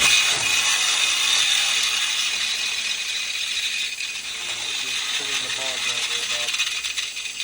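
Metallic strikes and rattling as a chamfering tool is hammered onto a rusty, thread-damaged bolt during a Subaru ball joint removal, a few sharp hits with ringing clatter amid background noise.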